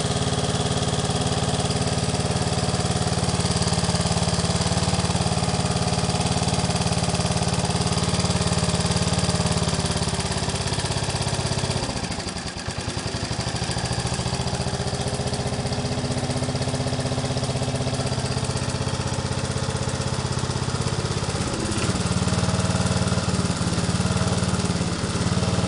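An 8 hp lawnmower engine running on hydrogen from an HHO dry cell drones loud and steady close by, with one brief dip in speed midway before settling back to an even run; no one speaks.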